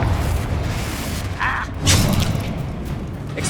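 A Confringo spell explodes in the Hogwarts Legacy video game, a muffled boom and burst rising over a steady rumbling game ambience, with a brief brighter crackle partway through.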